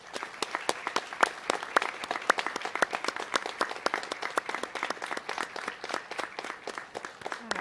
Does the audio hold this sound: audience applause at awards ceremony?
yes